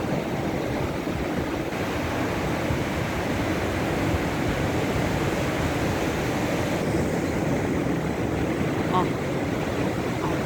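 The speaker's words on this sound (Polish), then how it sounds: "Jedna fala pcha drugą falę." Rough Baltic Sea waves surge and crash continuously onto the shore, a dense, steady roar of surf with wind noise, loud and close throughout.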